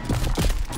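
Gunfire in the video game The Darkest Shore, a burst of rapid, loud shots in quick succession filling the whole moment, with game sound around it.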